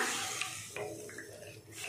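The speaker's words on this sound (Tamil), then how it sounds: "தண்ணி சேர்த்துட்டு நல்லா கலந்து விட்டுடலாம்." Tamarind water and plain water are poured into a simmering paruppu urundai kulambu and stirred, making a close, continuous wet sloshing with soft scraping and a light sizzle.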